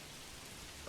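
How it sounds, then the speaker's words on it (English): Rain falling in the Manor Lords video game, a soft steady hiss of drops without pause, faint and continuous with no voices. "Can you see the rain?"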